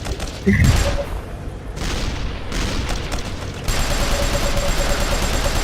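Loud, dense bursts of rapid gunfire with booming explosions roll on continuously in the video game Code of Honor, a chaotic battle din with no voices on top.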